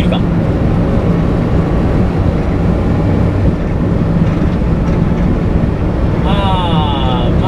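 An old, worn kei truck accelerates hard at full throttle, its engine droning loudly and steadily from inside the cab, with faint road noise and a brief rising tone near the end.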